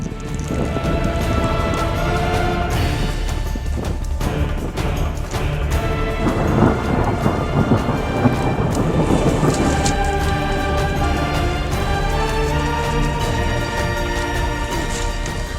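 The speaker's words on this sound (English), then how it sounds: "the weather changed and it turned into a thunderstorm" Heavy, steady rain roars close by with deep rumbles of thunder rolling underneath, loud and continuous throughout, during a mountain thunderstorm near Roopkund Lake, India.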